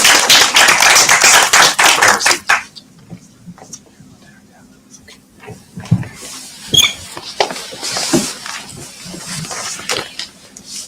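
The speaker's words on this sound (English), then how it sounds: "Round of applause." Applause at a UN High-Level Political Forum session on youth and COVID-19 recovery, welcoming UN-Habitat's Deputy Executive Director. A dense burst of clapping fills the first couple of seconds, then fades into quieter room sounds and a voice talking.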